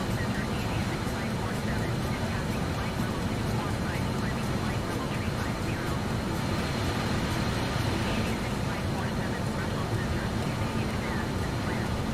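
A BAE146 airliner cruises in Microsoft Flight Simulator 2020 with a steady, dense engine roar that stays at one level for the whole stretch, broad and unbroken, with no talking over it.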